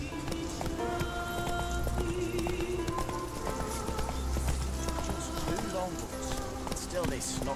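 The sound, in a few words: riderless horse hooves, from the video game The Witcher 3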